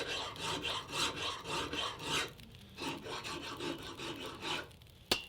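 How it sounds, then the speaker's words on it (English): Rhythmic rasping strokes, like a file scraping across metal or wood, repeat steadily during crafting at a workbench in the survival game The Long Dark, ending with a single sharp metallic clink. "Get the hammer and start crafting."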